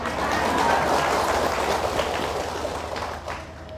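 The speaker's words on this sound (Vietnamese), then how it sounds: "Hay không mà vỗ tay lớn quá vậy?" Loud, dense applause from a large audience at a Buddhist dharma talk, a steady wash of clapping that fills the room and tapers slightly near the end.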